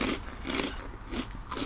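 Crunchy snack being bitten and chewed up close, a series of loud crackling crunches in irregular bursts, with no talk over them.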